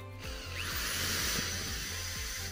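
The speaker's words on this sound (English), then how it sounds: "let's drill a hole for our wires" A power drill bores a hole for model train wiring, a close, steady motor whine with a faint rhythmic ratcheting pulse under it, no voices.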